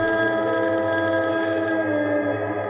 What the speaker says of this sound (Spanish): Los oficiales escucharon el teléfono sonar y sonar.